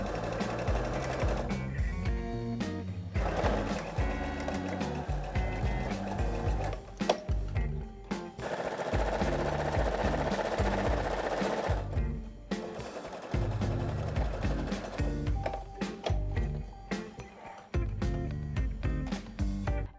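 A sewing machine stitches fabric for a dress in fast, rattling runs close by, with short pauses where the stitching stops and starts again, and no voices over it.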